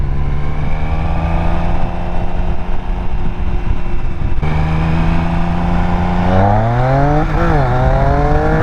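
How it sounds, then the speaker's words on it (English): A 1000cc motorcycle accelerating hard, its loud, steady engine note climbing in pitch through the gears, with rising and dipping harmonics near the end as it shifts and pulls away close up. "The acceleration on this bike is absolutely insane!"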